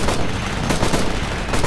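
Heavy automatic gunfire and booming shots from a military shooter, Operation Flashpoint: Red River, crowd together close and loud in a continuous barrage.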